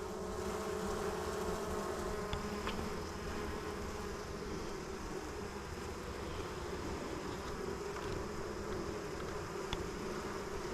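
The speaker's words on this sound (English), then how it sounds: "A lot of young bees." Honeybees buzzing steadily during a hive inspection, a dense continuous drone of many insects close by with no talking.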